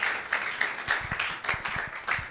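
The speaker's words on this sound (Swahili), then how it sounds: "Cheki, mnipigia hata makofi." A small workshop audience claps briefly, a loose patter of individual hand claps, fairly close and unaccompanied by talk.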